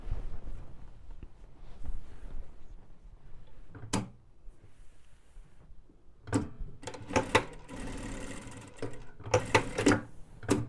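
A sewing machine stitches down a folded 4 cm hem on a high-neck blouse, with short bursts of rapid mechanical clatter separated by quiet pauses, close by and alone.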